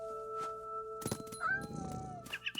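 Cat meowing in What Remains of Edith Finch, a single drawn-out meow after a few soft thumps and rustles, with faint chirps at the end.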